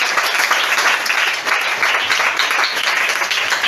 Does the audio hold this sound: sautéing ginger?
no